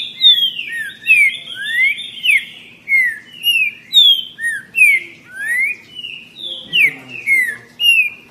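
A green-winged saltator (trinca-ferro) sings loudly and close by, repeating quick, ringing whistled phrases in a steady, rapid series with short pauses between them.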